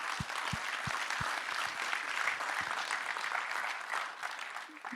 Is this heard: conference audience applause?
yes